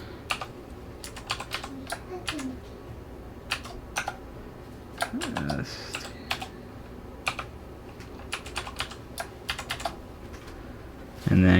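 Password being typed on a computer keyboard while a Hikvision security camera is set up; scattered, close, crisp key taps with pauses between bursts over a quiet room hum, ending in a louder thump.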